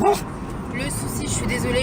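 A pet dog barks and yelps at another dog nearby, with short sharp cries near the start and someone speaking French over the sound throughout.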